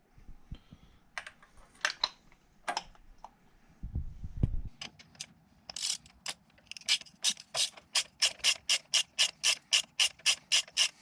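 A ratchet turns a 5/8 spark plug socket while removing spark plugs from a B5 Passat/Audi A4 1.8T engine: scattered clicks and rubbing, a brief dull knock, then a long run of rapid, evenly spaced ratcheting clicks close by.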